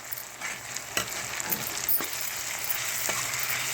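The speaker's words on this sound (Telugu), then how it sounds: "1 నిమిషం ఇలా పూర్తిగా కలిపేసుకోవాలి." Finely chopped vegetables fry in a pan with a steady close sizzle, while a utensil stirs through them, adding a few soft knocks and scrapes against the pan over a continuous hiss.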